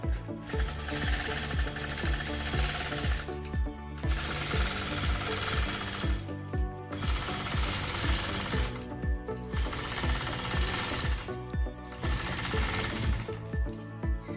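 A quilting machine stitches in the ditch along a seam, outlining sashing on dark fabric: a rapid, rhythmic mechanical chatter that runs in steady bursts broken by brief pauses, close and moderately loud, with no talking.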